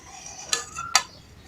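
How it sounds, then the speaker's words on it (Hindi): Chickpeas being spooned into a bowl for chaat, heard as two sharp metallic clinks of a spoon against the bowl about half a second apart, close and clear with no talk. "सबसे पहले हम चने डाल देंगे।"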